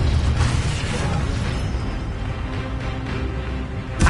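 Spell-casting effects from the PS5 game Hogwarts Legacy: a loud, continuous run of magical bursts, booms and crackling pops, layered with rumbling low impacts and a sharp hit at the close.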